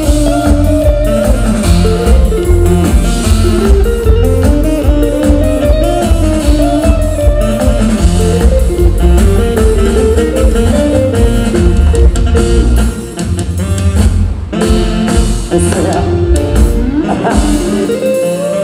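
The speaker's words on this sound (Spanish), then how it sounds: "Vamos a regalar una hermosa dianita, por favor, para todos los padrinos." A live band plays a festive diana fanfare at a wedding, loud and continuous with bright brass melody over steady drums, filling the room without pause.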